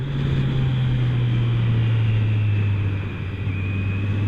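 A Kawasaki Z900 naked sportbike's engine drones steadily and loudly at close range, holding a smooth, sustained tone under throttle while riding winding roads, with a brief dip near the end as it downshifts.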